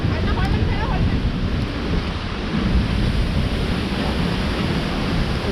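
Strong wind buffets the summit of a volcano on a hot day, a loud, steady broadband roar rushing across the microphone the whole time with no breaks.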